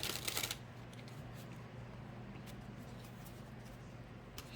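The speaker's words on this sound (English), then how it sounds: "Let's get these cards pulled." Tarot cards being shuffled for a reading, a brief louder riffle at the start followed by a soft continuous papery rustle over a steady low hum, with no talking.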